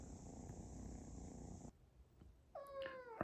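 A cat purrs steadily and closely for over a second during play, a low rumbling drone that stops abruptly, followed by rustling and a short meow at the end.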